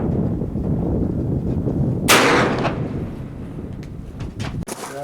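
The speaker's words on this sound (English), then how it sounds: "that gun hits hard" A single sharp gunshot cracks at an outdoor blanket shoot, its report ringing loud over steady rumbling background noise, followed by a fading tail.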